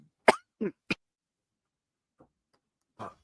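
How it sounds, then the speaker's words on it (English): A few short, sharp coughs sound up close, followed by quiet and another small burst near the end. "I'm sorry, I had to cough."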